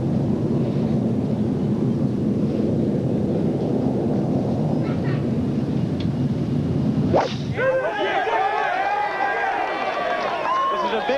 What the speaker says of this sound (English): Tee shot here right down the center.